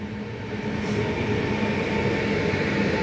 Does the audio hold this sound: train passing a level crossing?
yes